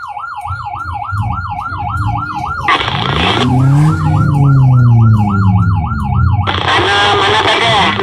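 An ambulance siren wails in a rising and falling pattern on its way to a fire emergency in Lunjuk, heard loud and close alongside a running vehicle engine and a strong rumble of traffic.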